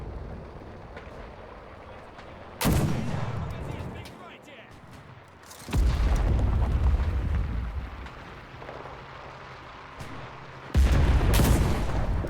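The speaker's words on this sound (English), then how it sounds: "That person got a PTRD 41 anti-tank rifle straight to the chest" A PTRD-41 anti-tank rifle fires in a video game as three heavy, booming shots spaced several seconds apart, each followed by a rumbling tail, with someone talking over the quieter stretches between them.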